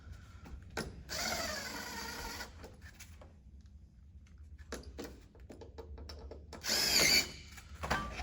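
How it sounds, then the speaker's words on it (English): Power drill driving a single TEK screw during a QuickEdge system installation, heard in a few short whirring bursts with a louder burst near the end. "we use one little TEX screw that we just use the drill"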